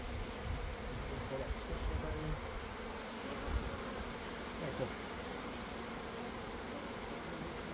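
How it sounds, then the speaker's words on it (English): Honey bees buzz steadily around a hive being fed syrup, a dense continuous drone close by with occasional soft knocks and handling sounds. "I don't like squishing bees, so give them a little tap there."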